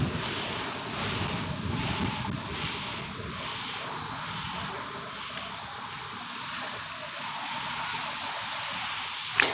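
Water pours steadily onto soil in a new no-dig garden bed, a continuous hissing spray like rain that is fairly faint and even, with no voices.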